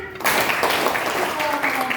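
A classroom of children does a clapping chant and ends in a burst of many quick claps, loud and close, with voices mixed in.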